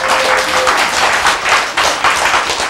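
A lecture audience claps together in a dense, loud burst of applause that holds steady for a few seconds.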